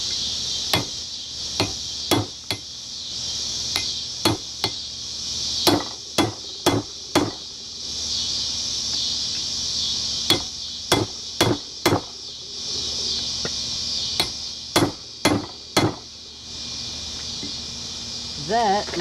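Rhythmic hammer blows on a hot chisel driven into hot forged steel at a blacksmith's anvil, marking where a hammer eye will be punched; about twenty sharp, ringing metallic strikes in irregular bursts, close and loud over a steady background hiss.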